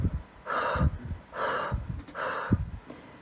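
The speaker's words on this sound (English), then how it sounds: "The patient may do something called pursed lip breathing" Pursed lip breathing demonstrated by a person, three slow rounds of inhaling followed by long, breathy, hissing exhales through pursed lips, close and clear with no talking.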